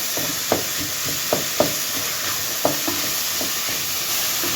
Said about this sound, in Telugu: కొంచెం టమాటాలు మగ్గాలి.